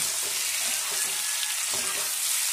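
Pork kumbin fries in a pan over low heat, with a steady, dense sizzle and occasional scraping stirs, close and continuous throughout.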